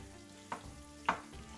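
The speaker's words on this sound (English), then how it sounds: "I'm gonna go ahead and get some color on our rice." Cooked rice fries with minced garlic in avocado oil in a pan, a soft steady sizzle broken by two brief stirring scrapes, quiet and close.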